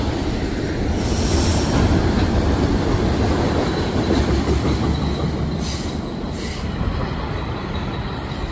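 A CN train rumbles past steadily on a curve at Bayview, with a continuous broadband roar and brief high metallic wheel squeals near the end.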